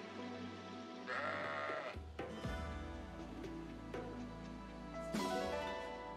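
A synthetic, game-like sheep bleat from Fire Emblem Engage rings out over a steady musical backdrop, followed by chimes and tonal effects.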